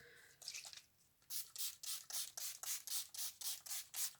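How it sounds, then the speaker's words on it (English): Rapid, evenly spaced hissing spritzes from a Gerard Cosmetics Slay All Day setting spray bottle, about ten short pumps in a steady rhythm after some softer rustling, close and fairly quiet. "we're going to take our Gerard Cosmetics Slay All Day Setting Spray"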